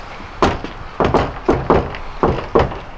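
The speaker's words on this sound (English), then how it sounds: "That's the least friendly knock I've ever heard." Firm knocking on a door inside the Trans-Allegheny Lunatic Asylum, about eight heavy raps in uneven pairs and triplets, loud and close with a hollow thud, no talk.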